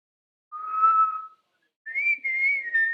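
A man whistles a short tune during a live football watchalong stream, close and clear, with one sustained phrase, a brief pause, then a longer wavering phrase, and nothing else around it.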